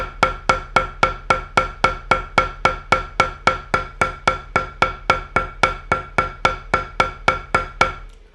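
Drumsticks play an even sticking exercise, roughly three strokes per second, about twenty-four sharp, evenly spaced hits close up with a steady rhythm and no talk.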